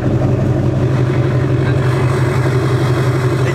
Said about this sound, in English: We're going to start the Duramax out.